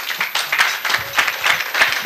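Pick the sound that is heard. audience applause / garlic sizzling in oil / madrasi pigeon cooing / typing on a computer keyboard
audience applause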